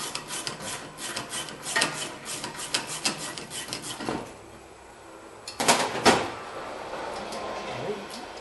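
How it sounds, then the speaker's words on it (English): A ratchet works a tight brake caliper bolt loose on a 2008 Nissan Altima, giving rhythmic rasping clicks in steady bursts, then a pause and a louder clattering burst, close up. "It's a little bit tight too, so we are going to use the ratchet on this one."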